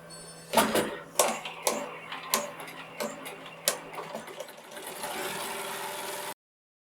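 An embroidery machine stitches a monogram onto a stuffed bunny, starting with a series of sharp rhythmic clicks and ticks that blend into a steady mechanical whir before stopping abruptly.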